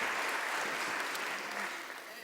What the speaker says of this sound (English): give Eli a big round of applause.